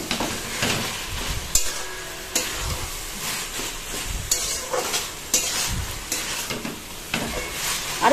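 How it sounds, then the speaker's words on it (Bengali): Taro leaves with a hilsa fish head frying in a pan make a steady sizzle, and a spoon stirring them scrapes and knocks at intervals, moderately close. "এবার একটু ভাজা ভাজা করবো।"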